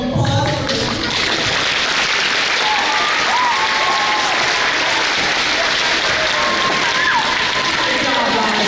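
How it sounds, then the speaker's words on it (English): Loud, close applause from an audience honoring a school district's Teacher of the Year and Service Employee of the Year, dense steady clapping with faint voices and whoops mixed in. "So give a big warm applause for this."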